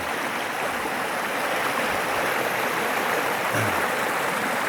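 The main flow of a stream at a mountain wildlife refuge, a steady broadband rushing and babbling of water, close and continuous, with no talking.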